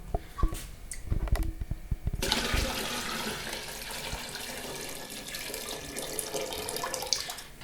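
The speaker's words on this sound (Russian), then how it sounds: "Сливаем эту воду" Rinse water drained off washed grain: a few close clunks and taps on the vessel come first, then a loud sustained gush of pouring water that runs to the end.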